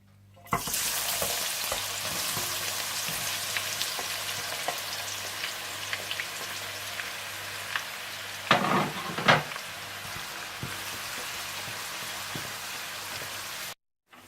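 Loud, steady sizzling of onions frying golden brown in oil for fish curry, a dense crackling hiss with a couple of brief stirring scrapes partway through, no talking.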